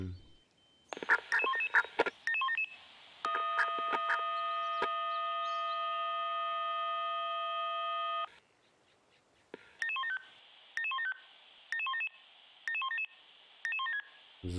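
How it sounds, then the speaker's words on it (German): Triggered smoke detector alarm in the Emergency 4 firefighting video game: a sustained electronic tone, then repeated short beeping bursts in an even rhythm, with no talk over it. "Kriegen wir einen ausgelösten Rauchwarnmelder."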